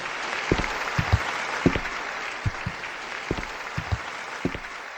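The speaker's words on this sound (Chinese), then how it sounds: "下面让我们掌声有请慕容小少爷登台演奏" An audience at a formal performance breaks into applause, a steady wash of many hands clapping under a noisy hiss, with a few sharper claps standing out.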